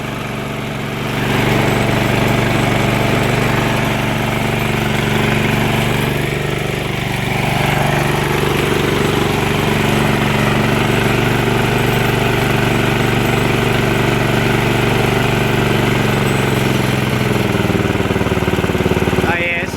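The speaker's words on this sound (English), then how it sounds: "Wow, this is a really nice running engine." A Briggs & Stratton Vanguard small engine idling after carburetor work, running smoothly with a steady, loud, even hum that starts after a brief quiet moment and continues throughout, with occasional voice underneath.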